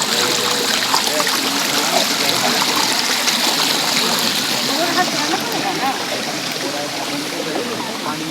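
Stream water near Bhimashankar temple by Dakini hill, a walk-through water crossing close to Kamakhya; a steady, loud rushing and trickling flow fills the whole stretch, with voices faintly mixed in.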